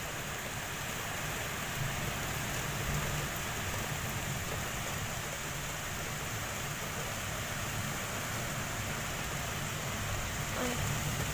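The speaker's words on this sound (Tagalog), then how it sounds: "Patuloy pa rin yung ulan sa labas." Heavy rain pours outside during a power outage, a steady, dense wash of noise that fills the whole stretch without pause and with no voices over it.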